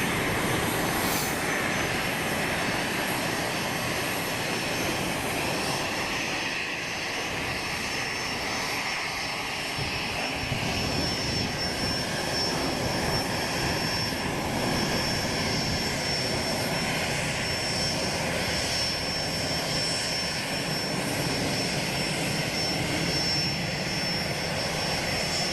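An MD-11 jet taxies at Boeing Field with its engines running, a soft, distant, continuous rumble topped by a thin steady high whine, unbroken from start to finish.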